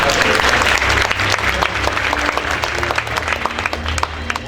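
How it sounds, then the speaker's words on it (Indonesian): Steady, full applause from an audience at a university guest lecture on entrepreneurship, a thick wash of clapping holding evenly throughout with a low background hum underneath. "Pinjam tepuk tangannya dong buat mereka."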